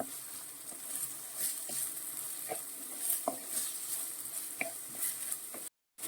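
Shrimp sautéing in a pan for a rice porridge, a steady close sizzle with scattered clicks of stirring, then a short silent gap near the end.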